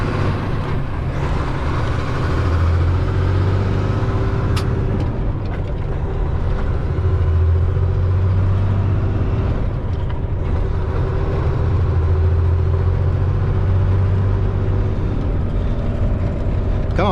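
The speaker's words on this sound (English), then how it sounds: "I'm driving a semi-truck." A semi-truck's diesel engine rumbles continuously while it drives slowly along a narrow road, a close, loud, low drone that swells and eases with throttle, with no speech over it.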